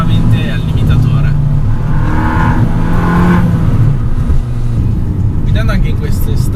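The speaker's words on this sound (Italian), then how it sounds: "la Krapovic dietro dà veramente un sound coinvolgente" An Abarth Biposto's small engine revs hard through an Akrapovič exhaust, rising and falling in pitch, with someone talking over the continuous rumble.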